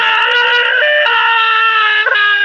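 A man screams loudly in one sustained, strained shout, pitch wavering and jumping a few times, close and dominant with nothing else underneath.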